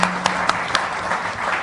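An audience at an innovation and entrepreneurship event breaks into steady applause, a broad wash of many hands clapping with a few sharper claps standing out.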